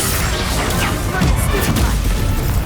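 Confringo blasting spell fired in the Hogwarts Legacy video game during a wizard duel, a dense crashing burst of game effects with booming low rumble filling the whole moment, with no pause in the noise.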